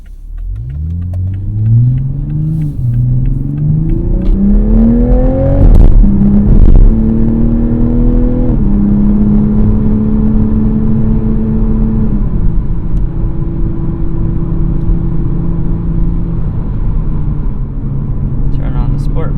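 A 2021 Toyota Supra 3.0 Premium's engine is heard from inside the cabin while driving. It climbs loudly in pitch through repeated accelerations and gear changes, then settles into a steady, rumbling cruise.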